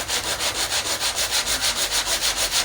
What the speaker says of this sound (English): we will get some 100 grit sandpaper on a sanding block